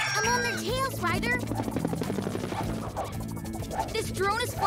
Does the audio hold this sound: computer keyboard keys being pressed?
no